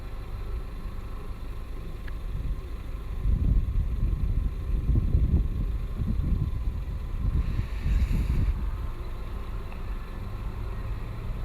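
Hovercraft crossing the river at Yakutsk rumbles from a distance as a low, steady engine and fan roar that swells and eases, with wind buffeting the microphone and no talking.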